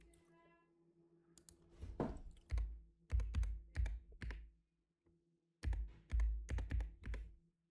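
One-handed typing on a computer keyboard: close, quiet bursts of clicking keys separated by short pauses, with no talking.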